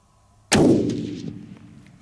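A single loud, close rifle shot from a Weatherby Black Hills rifle being sighted in at a range, a sharp crack followed by a long decaying boom.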